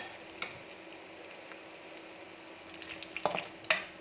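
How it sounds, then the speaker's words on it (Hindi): Finely chopped onion frying in oil in a pan for a Kashmiri shalgam gosht, a quiet continuous sizzle with a few sharp stirring clicks and scrapes near the end. "इसमें हमने डाला है एक अनियन जिनको हमने फाइनली चॉप किया है और इसको हम लाइट ब्राउन होने तक फ्राई करेंगे"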